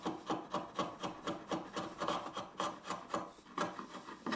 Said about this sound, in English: I can then remark up the material that needs removing here, and I did this with a chisel